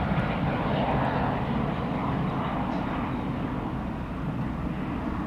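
An Airbus A320-200 airliner's jet engines give a loud, steady, continuous roar throughout, broadband and unbroken, with no voices.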